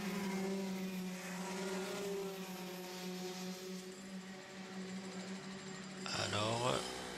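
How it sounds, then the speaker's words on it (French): A race car with engine trouble crawls slowly along the track, its engine a low, steady drone under a commentator's voice, then rising into a brief sweeping rev near the end. "Hugo Raffi qui semble avoir un problème moteur."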